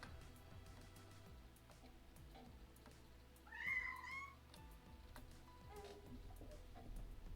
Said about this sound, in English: I just heard him meow as he came in